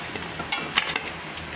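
Paneer frying lightly in oil in a kadhai gives a soft, steady sizzle with a few brief stirring clatters, close and quiet, with no talking.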